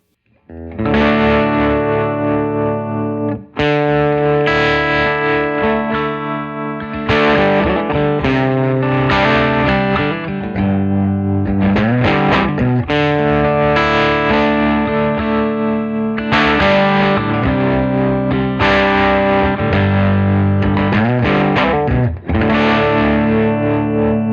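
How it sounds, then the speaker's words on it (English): Electric guitar chords with overdrive ring out through a pulsing, wavering tremolo effect from a Supro Black Magick amp, played loud and continuous with brief gaps between phrases. "So as you can hear, it's a really sweet sounding tremolo."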